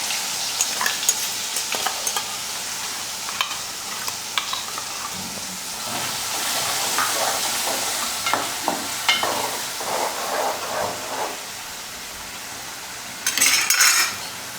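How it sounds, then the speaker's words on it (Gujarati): Asafoetida, dried red chillies and ground onion sizzle in hot oil for a chickpea curry, a steady bright frying hiss broken by repeated spoon clinks and scrapes against the pan, with a louder burst of sizzling near the end. "હિંગ નાખીશું, લાલ મરચી સૂકલ નાખીશું, કાંદા નાખીશું પીસેલા"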